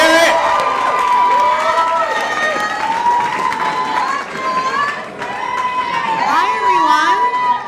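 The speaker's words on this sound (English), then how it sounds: "Please give a big round of applause for Grace Goldstein, everybody." An audience at Gotham Comedy Club in New York applauds and cheers as a stand-up comic is welcomed to the stage. The crowd noise is loud and steady, with scattered voices calling out over it.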